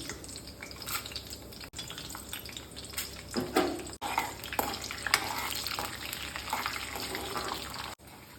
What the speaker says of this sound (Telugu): నూనె వేడయింది పోపులు వేస్తున్నాను